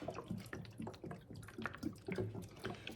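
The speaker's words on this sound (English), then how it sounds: "So I'm just gonna pour the rest of this right inside of it," Alcohol poured from a bottle over sugar and cut peach, nectarine and plum pieces in a jar for homemade liqueur, a steady trickling and dripping liquid sound heard close up with no talking.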